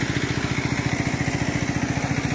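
A small engine-driven pump runs steadily to drain water from a crab pond, its rapid even putter close and continuous with a faint clatter and no talk.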